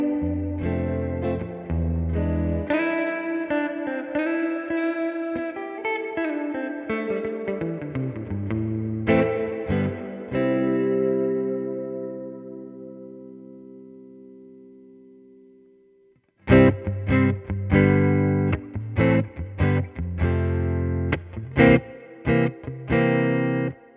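Electric guitar played through a Hothouse DaisySeed Flick reverb pedal, clean distorted-edged chords and single notes ringing out with a long reverb tail that decays into silence before strummed chords resume, with no talking.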